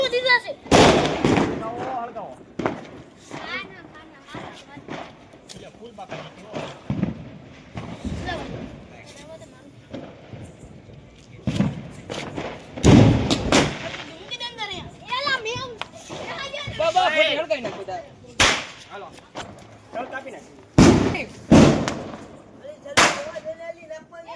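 Diwali firecrackers burst in sharp, scattered bangs, some in quick clusters, amid excited children's chatter and shouting close by.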